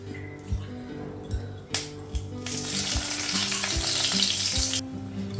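Carrots fry in a hot wok with a crackling sizzle that swells into a loud, dense spatter midway, over a faint rhythmic musical beat in the background.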